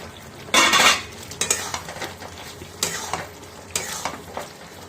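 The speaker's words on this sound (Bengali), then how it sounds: "কোপ্তাগুলো দিয়ে আরেকটু কষিয়ে নেব" Chicken malai koftas are stirred and fried in a gravy in a pan, with several bursts of utensil scraping and clinking over a faint sizzle, fairly close and without talk.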